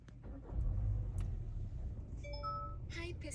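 A 2024 Hyundai Grandeur engine starts with a low rumble that settles into a steady idle, and chimes sound near the end.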